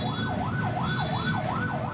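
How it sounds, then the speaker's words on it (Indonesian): An ambulance siren wails in a steady rising and falling sweep amid a traffic jam on a congested arterial road, loud and continuous over dense engine and traffic rumble. "Bahkan ambulans yang mengangkut pasien kritis terjebak di tengah kemacetan."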